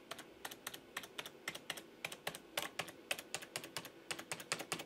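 Steady typing on a Razer Ornata V2 hybrid mechanical keyboard, a brisk run of crisp clicks close to the microphone, each keystroke distinct, with no voices.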